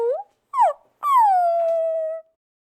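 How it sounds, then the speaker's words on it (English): A dog gives two short, sharp yelps followed by a long, drawn-out whimpering whine, close and fairly loud, with brief silences between. "Fluffy's yelps and cries just made Baby Electra laugh even more"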